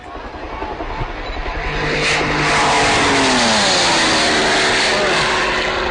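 A loud piston engine on a Thunder Mustang scale replica fighter plane roars and revs up, its pitch sweeping and climbing as it builds to a sustained, close growl.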